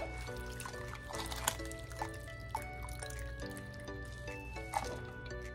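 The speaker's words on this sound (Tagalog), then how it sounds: "Tanggalin natin siya dito sa tubig." A soaked banana blossom is lifted out of a bowl of cold water and squeezed, water dripping and trickling back down softly over steady background music, with no talking.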